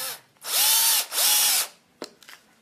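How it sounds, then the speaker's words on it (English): A battery-powered drill drives a small screw fixing a D-ring into a wooden picture frame: two steady whirring bursts with rising pitch at the start, then a couple of brief clicks and taps as the drill is handled. "And so here with my battery-powered drill,"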